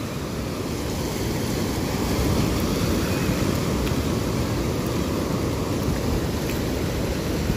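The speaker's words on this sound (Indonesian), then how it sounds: "Jadi makin sore makin nambah tinggi nih ombaknya." Ocean surf on a southern-coast beach in the late afternoon, a continuous loud roar of waves close by with wind noise, no talk.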